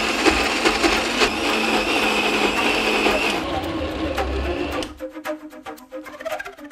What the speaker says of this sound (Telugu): దీన్ని మనం మిక్సీ చేయాలంటే డెఫినెట్గా చల్లగా చేసుకుని మిక్సీ చేయాలి